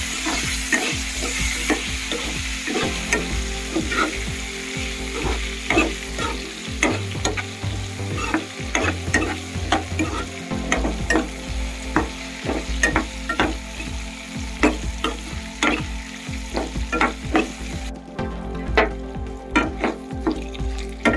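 Stuffed brinjals deep fry in plenty of oil, giving a loud, dense sizzle close by, with frequent spatula clinks and stirring scrapes on the pan; no speech.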